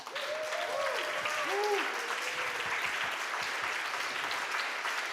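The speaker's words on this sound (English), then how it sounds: "A big applause." Audience applause fills a conference hall at an event in Berlin, steady dense clapping sustained throughout, with a few voices calling out faintly over it early on.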